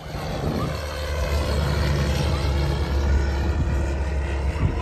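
Fixed-wing airplane passing overhead near an airport, a steady low engine drone that holds at a constant loud level for the full length, with no talking.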